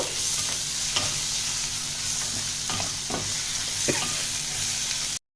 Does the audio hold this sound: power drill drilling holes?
no